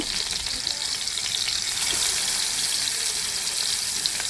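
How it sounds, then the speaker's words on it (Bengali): Marinated fish coated in chili, turmeric, salt and lemon juice fries in a new pan, a steady loud close sizzle with a crackling hiss throughout and no talking. "এখন একটু কড়া করে বেজে নেব"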